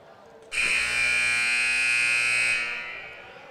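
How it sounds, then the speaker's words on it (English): A loud, sustained electronic halftime buzzer at a girls' basketball game blares for about two seconds, steady and harsh, then cuts off and fades into crowd ambience. "the buzzer sounds from halftime"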